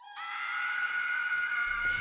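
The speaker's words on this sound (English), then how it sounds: "we heard this scream" A long, sustained scream rings out in dark woods, loud and steady with strong harmonic bands, holding for nearly two seconds before a low thump at the end.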